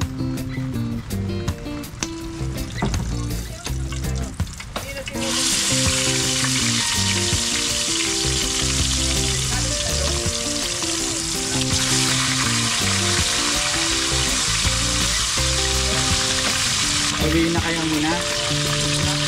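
Food frying in a hot kawali at an outdoor fishing spot, where a dense, loud sizzle bursts in partway through and stays steady, preceded by clattering and brief talk.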